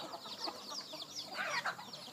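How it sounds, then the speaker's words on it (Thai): Young gamecock chickens, about sixty to seventy birds in a small rearing pen, cluck and chirp steadily at moderate distance, a busy flock murmuring without pause. "นี่ก็จะเป็นพวกไก่ กำลังโตฮะ"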